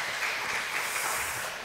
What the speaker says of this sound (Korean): 그런 마음으로 우리 격려의 박수 한번 하겠습니다